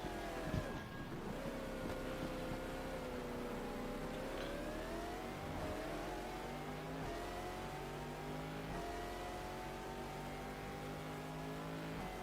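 A Judd V10 race car engine revs hard in a racing video game, its high, rising and falling tone shifting through gears over a steady, loud drone, with no talking.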